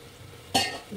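Water is poured into rice in a cooking pot, a short splashing hiss that bursts in suddenly after near silence and then tapers off.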